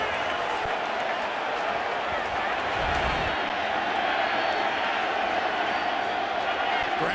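Stadium crowd roaring at a World Series baseball game between the Kansas City Royals and New York Mets, a continuous loud wash of cheering with a play-by-play commentator talking over it.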